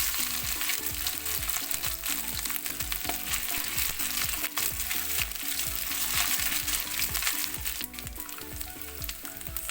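Chopped coconut pieces sizzling and frying in coconut oil with mustard seeds, a steady dense crackle with stirring, close and continuous with no talk.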